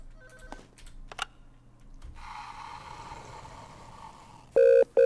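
A telephone rings in the horror video game Unspoken: clicks and a rising hiss lead up to two loud, steady electronic ring bursts near the end.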